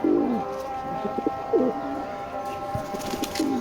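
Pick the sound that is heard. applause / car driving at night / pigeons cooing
pigeons cooing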